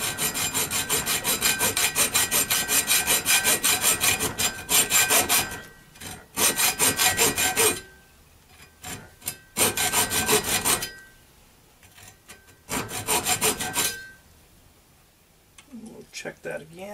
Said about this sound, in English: I'm going to cut down into it enough so that I can make a notch that the nut will fit into.